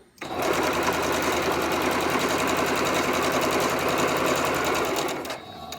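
A sewing machine chain-pieces half-square-triangle quilt blocks, its needle running in one fast, continuous, even whir for about five seconds before stopping abruptly, close and loud with no talking.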